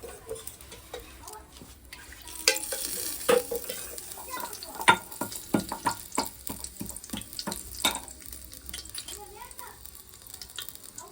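Cumin tempering in hot oil for a whole moth bean curry, heard as a soft sizzle under sharp clattering stirring and clinks, with a faint running-water sound. The sounds come in irregular bursts, nearby, with no talk.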